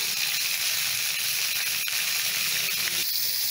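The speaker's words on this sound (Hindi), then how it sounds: "मसाले को भी मैं भून लेती हूँ" Spice paste fries in a pan for hog plum and green chilli sabzi, a steady close sizzle and hiss of oil with small crackles throughout and no speech.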